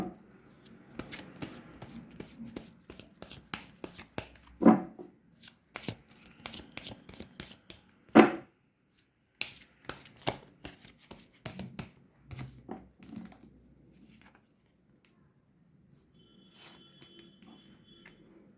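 Tarot cards being shuffled by hand, bursts of soft riffling and flicking taps that come and go, close and quiet, with a sharper flurry around the middle and long near-silent stretches toward the end.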